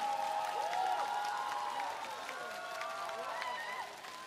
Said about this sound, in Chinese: 来，我们掌声响起，